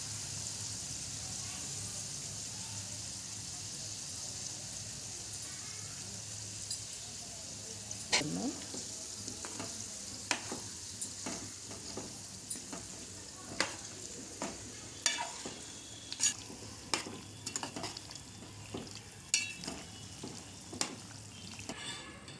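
A spoon scrapes and stirs turmeric and garlic paste into amla pickle in a pan, sharp clicks and scrapes repeating irregularly over a soft steady sizzle.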